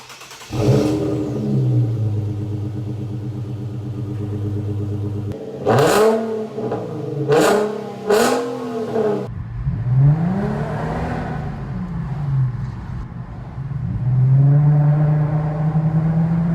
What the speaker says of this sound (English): It really is hard to beat that exhaust note,